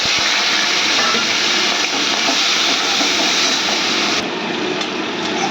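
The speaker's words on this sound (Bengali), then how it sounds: "চিংড়ি মাছগুলো ভালো করে ভেজে নিচ্ছি লাল করে।" Prawns coated in salt and turmeric fry hard in a generous amount of hot mustard oil with bay leaf, cumin and black cumin, giving a loud, steady, close sizzle and hiss that continues throughout.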